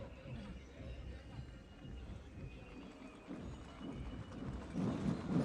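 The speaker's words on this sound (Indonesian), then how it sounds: "Dengan jumlah 55 ekor kuda, dengan komposisi pasukan yang terdiri dari prajurit kavaleri berkuda" Cavalry horses, a troop of 55 with mounted soldiers, parade at an Indonesian military anniversary procession, their hooves a dense low rumble beneath continuous crowd babble and outdoor noise that swells toward the end.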